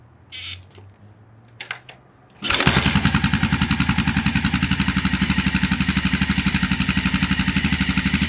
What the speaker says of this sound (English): let's start the bike and see how it goes.